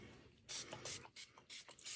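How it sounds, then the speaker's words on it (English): A spray bottle is pumped indoors in a series of quiet, sharp hissing bursts, about five quick sprays in an irregular rhythm, close to the microphone. "I'm gonna spray a little."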